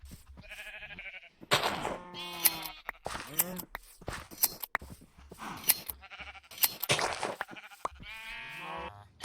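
Repeated Minecraft sheep bleats, several wavering calls in quick succession at moderate loudness, with short gaps and some blocky game clatter between them; no talking.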